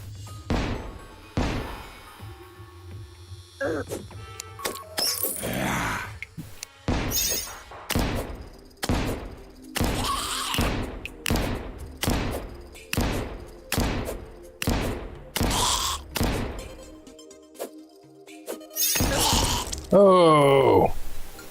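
Rapid bursts of grenade explosions in Terraria, played in Master Mode, sound as a string of loud, sharp thuds and blasts repeating roughly every second, with game noises in between.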